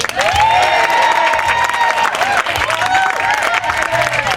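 Crowd at an outdoor medieval fayre at Nurragingy Reserve in Blacktown breaks into loud, sustained applause and cheering, with voices mixed into the continuous clapping throughout.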